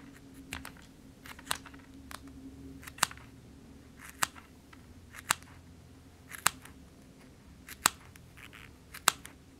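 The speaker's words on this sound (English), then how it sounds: "snip with the scissors" Scissors snip through paper die-cuts in crisp, close, isolated cuts that come roughly once a second, with no other sound around them.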